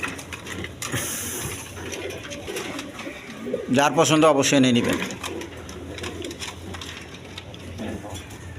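Pigeons coo and flutter in a crowded pigeon farm holding Indian Bombay and deep red birds, a steady close cooing bed with a louder burst of calls midway, someone talking over it throughout.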